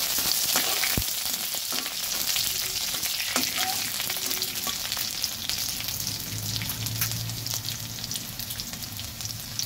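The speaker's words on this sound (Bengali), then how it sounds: "5-6 কোয়া রসুনকে কুচি কুচি করে কেটে তারপরে দিয়েছি। এবার হালকা ভেজে নেব।" Five or six cloves of finely chopped garlic fry lightly in a pan, a close, steady sizzle with sharp crackles and pops and a few stirring clicks.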